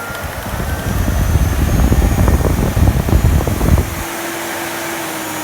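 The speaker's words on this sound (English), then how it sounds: "I hoover on the floor." A Miele S251i vacuum cleaner runs with a loud, steady motor roar and a rough, rumbling airflow. It cuts off near the end, leaving a fainter tonal whine.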